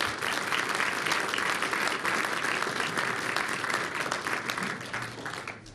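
Sustained audience applause fills a hall as a history speaker is welcomed to the stage, dense and steady clapping that holds loud throughout before easing slightly at the very end.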